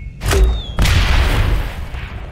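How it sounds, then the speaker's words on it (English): A grenade goes off in the Aliens: Dark Descent video game. Two deep, booming blasts come close together, and a rumbling tail fades under faint game sounds. "Grenade!"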